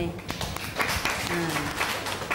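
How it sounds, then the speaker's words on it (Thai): Students in a Thai primary classroom clap together for a classmate, a short burst of scattered, overlapping hand claps filling the room, with speech underneath throughout. "เอาปรบมือให้เพื่อนหน่อย"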